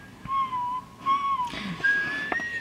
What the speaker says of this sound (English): he knows how to whistle